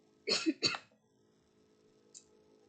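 Two quick, sharp coughs close up, followed by a brief faint breath or click after a short silence.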